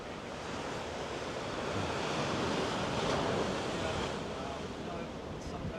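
Ocean surf rolls steadily at Swami's Beach in Encinitas, a broad continuous wash of breaking waves with wind buffeting the microphone, swelling slightly midway and never pausing.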